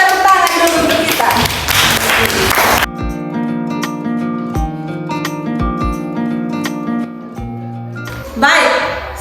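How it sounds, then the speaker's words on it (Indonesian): Schoolchildren clap their hands together in a classroom, a loud burst of rapid, dense clapping at the start that gives way to music with sharp rhythmic taps, then a brief return of clapping near the end. "Coba tepuk tangan dulu untuk kita."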